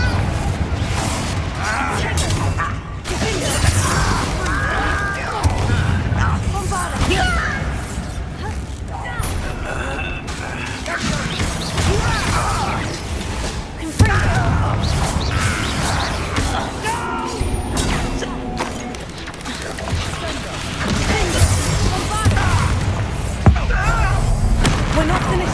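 Confringo fire spell explosions during combat in the video game Hogwarts Legacy, with repeated booms, crashes and clattering mechanisms in a dense, busy mix, with voices talking throughout.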